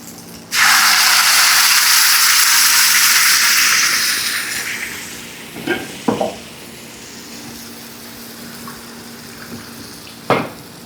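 Stuffed tomatoes sauté in a pan, starting with a sudden loud broad hiss that fades over a few seconds, followed by a few sharp clinks and taps of a utensil, close and without speech.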